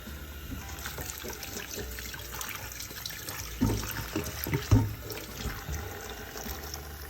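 Tap water running into a dirty pot with soap left to soak, a faint, steady splashing and trickling stream with a couple of louder gurgles near the middle, no talk.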